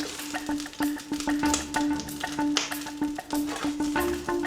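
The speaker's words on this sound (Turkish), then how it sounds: "Tabi yandan da yağlar pıçık pıçık pıçık yapıyor." Hot oil sizzles and crackles in a pan while burger buns fry, with steady frying hiss and scattered pops, close and moderately loud, plus light clinks and stirring noises, no talking.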